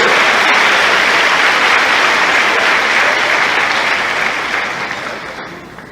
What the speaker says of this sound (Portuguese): Você pode aplaudir a Ele por isso?